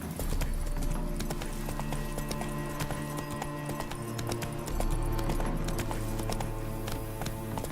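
Roach, a horse in The Witcher video game, trots with a steady, close clip-clop of hooves that runs throughout, over a continuous musical bed, with a brief whinny-like note.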